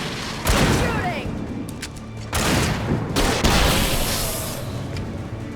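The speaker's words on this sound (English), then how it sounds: "Shooting!" Gunfire in the video game Alan Wake, two loud bursts of rapid shots with rumbling tails, close and heavy, with a lull between them.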